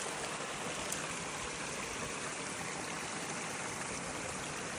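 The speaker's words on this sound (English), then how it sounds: "This section is also a small river." A small stream of water flows steadily beside a koi pond, a continuous close rushing and trickling wash with no breaks and no voices.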